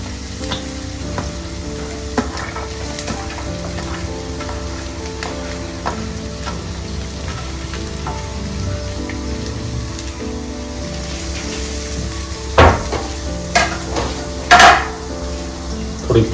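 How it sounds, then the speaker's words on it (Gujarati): Onions, garlic and ginger fry in a pan with a continuous close sizzle, occasional stirring scrapes and a couple of louder utensil knocks near the end, without any talking. "આપણે આને ગોલ્ડન નથી કરવાની, ખાલી ફ્રાય જ કરવાની છે"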